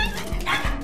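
Small fluffy dog in an animated film makes short yipping bark-like sounds, close and fairly loud, over a dense background of music and effects.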